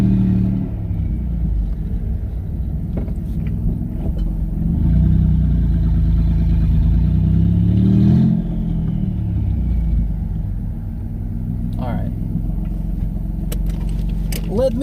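A twin-turbo V6 Mustang engine rumbles steadily from inside the car, swelling in the middle as the throttle comes off and both turbos spin down with a faint whine, then settling back to a low cruise drone.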